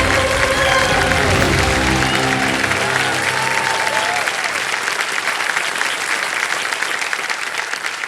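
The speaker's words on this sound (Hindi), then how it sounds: "एक बार जोरदार तालियां बज जाए" Loud, sustained applause from a TV quiz show studio audience, steady clapping throughout with a few voices and music fading underneath early on.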